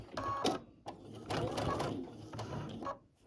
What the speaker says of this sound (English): I'm going to go this way a hair and give this a slight turn and sew that down